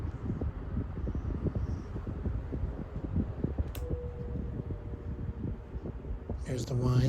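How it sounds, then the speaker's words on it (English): A royal blue 8-inch Opolar desk fan runs at top speed close by, making a steady low whooshing hum with scattered faint clicks, and a brief louder rustle near the end. "As fast as this fan goes."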